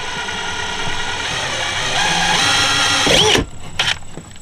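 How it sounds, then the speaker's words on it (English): A power drill whirs continuously at close range while drilling a hole to install a Knarr steering kit, its pitch rising as it bites in, then stops abruptly with a few short trailing whirs. "we're just going to lightly drill, get it as straight and as level as you can"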